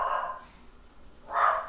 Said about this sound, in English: Sorry about my dog, guys. He's barking like crazy.